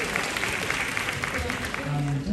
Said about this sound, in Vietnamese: Chúng ta vỗ tay cho đạo diễn Trấn Hải.